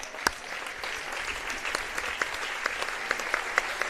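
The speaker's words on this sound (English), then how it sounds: "And getting applause from the stands." Steady applause from a crowd in the stands at a high school girls' volleyball match, dense clapping with a few sharper claps standing out, continuing without a break.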